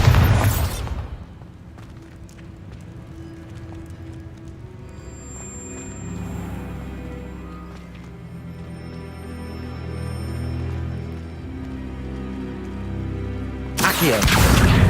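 A Bombarda spell explodes in the Hogwarts Legacy video game, a loud booming burst followed by rumbling, crackling debris and layered game sound effects, with a second sharp blast near the end.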